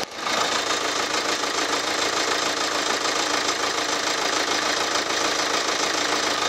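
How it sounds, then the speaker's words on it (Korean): A 2014 Kia Sportage R diesel 4WD SUV engine idles steadily, a constant rough rumble with a faint knocking texture, close by and fairly loud, with no talking. "엔진 소음도 한번 들어보실게요"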